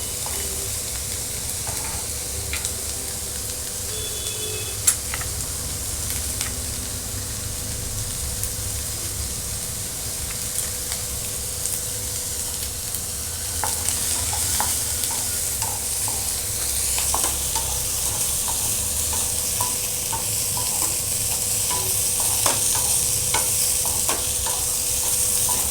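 Ginger and garlic frying in a pan for Agri-style chicken, a long, even sizzling hiss with occasional soft clicks and scrapes of stirring, close and steady throughout.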